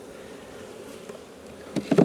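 Honeybees hum in a beehive frame during queen rearing, a low steady drone at modest level, growing louder in a few brief close buzzing bursts near the end.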